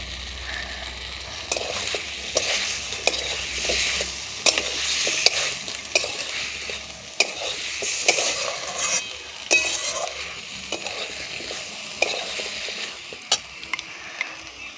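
Potatoes and pointed gourd fry in a pan with spices, a steady sizzle running throughout while a spatula scrapes and stirs in repeated clattering strokes, close and alone with no talk.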